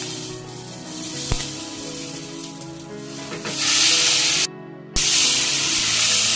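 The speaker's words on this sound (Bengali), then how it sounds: "এবার আমি চিংড়ি মাছটা ভাজা করে নেব।" Prawns fry in mustard oil in a wok, starting with a faint sizzle and a sharp clack, then swelling to a loud, steady hissing sizzle that briefly cuts out and returns, close and alone.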